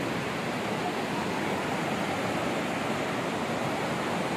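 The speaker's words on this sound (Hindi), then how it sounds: "फाइनली हम पहुंच गए हैं जी मंठोगा वाटरफॉल" Steady broadband roar of Manthoka Waterfall in Skardu, Pakistan, a large cascade heard close up as a constant dense rush with no pauses and no voices.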